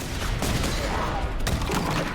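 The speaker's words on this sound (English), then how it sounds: "I don't know what that explosion is for." An explosion in the video game Cult of the Lamb comes as a rough, crackling blast with a few sharp bursts in quick succession, loud and dense across the whole moment.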